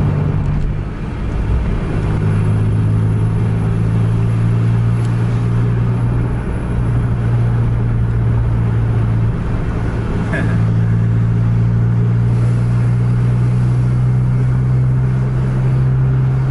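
A Scania bus engine on an Indonesian highway drones low and steady as it accelerates to overtake, a continuous close rumble with a slight lift partway through and no pauses.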